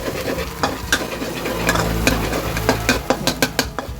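Egg is mashed and stir-fried in hot oil in a pan. A soft sizzle runs under repeated sharp scrapes and taps of a utensil against the pan, with the strokes quickening toward the end. No one speaks.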